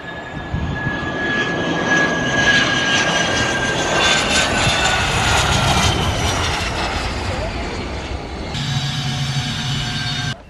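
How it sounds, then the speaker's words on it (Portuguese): A jet aircraft passes on the far side of an airfield near a helicopter factory, a loud sustained roar with a whining tone that drifts in pitch over about ten seconds, with voices faintly beneath it. "Acabaram de passar com o jato do outro lado"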